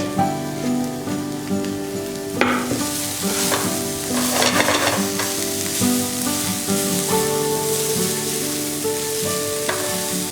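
Vegetables with beans and cabbage sautéing in a pan, a steady loud sizzle with intermittent stirring scrapes throughout.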